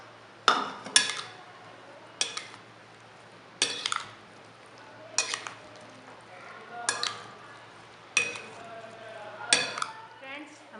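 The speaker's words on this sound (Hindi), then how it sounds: "तमाम चीज़ों को अच्छी तरह मिक्स कर लेंगे।" Creamy fruit chaat with apricot and pomegranate seeds is mixed in a bowl, a spoon clinking and scraping in about seven evenly spaced sharp bursts over a quiet background.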